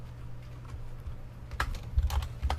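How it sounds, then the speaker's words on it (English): Someone types program code on a computer keyboard, with soft, quick clicking keystrokes close by that build into firmer taps near the end, with no talking. "Let's just type our program here."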